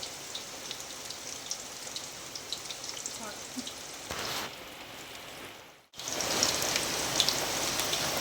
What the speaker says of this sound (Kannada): ಯಾಕಂದರೆ ತುಂಬ ಮಳೆ ಬರ್ತುಂಟು ಜೋರಾಗಿ